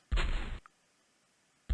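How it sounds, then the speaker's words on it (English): A volcano bomb weapon firing in a retro artillery tanks video game: a short, loud, harsh blast that cuts off abruptly, followed by near silence and the start of another blast. "Volcano bomb."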